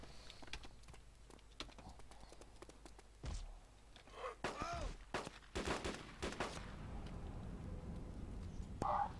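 Several sharp Makarov pistol shots crack out in bursts among DayZ game sounds and muffled background noise, with some brief louder impacts and faint voices mixed in.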